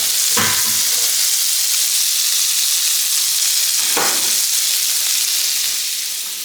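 Butter sizzling loudly in a hot pan for steak fajitas, a steady dense hiss close up with a couple of brief clinks or stirs, no talking.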